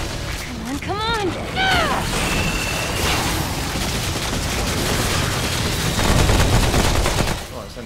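Rapid gunfire from a high-capacity gun in the video game Remnant: From the Ashes, a dense, loud stream of shots with creature screeches early on and a player talking over it.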